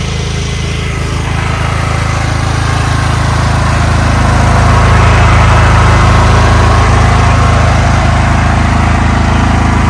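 A Daewoo 7.5 kW portable petrol generator with AVR drones loudly and steadily, its low engine hum unbroken throughout with no voices.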